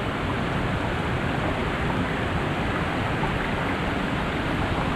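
Water runs down over rocks in a park stream on a summer hike, a steady, dense rushing wash that holds even from start to finish with no voices.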